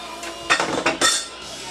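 Dishes and cutlery clinking in a sink full of dishes, a few bright metallic clinks and clatters close by over a steady background hiss.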